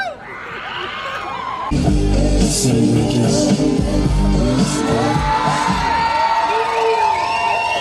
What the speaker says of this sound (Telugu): కేకలు కేకలు అరుపులు అరుపులు.